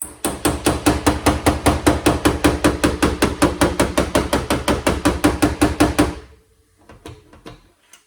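A wide-faced hammer pounds dents out of a metal panel in a fast, steady run of about thirty loud, evenly spaced blows, then stops, leaving faint clatter and room noise.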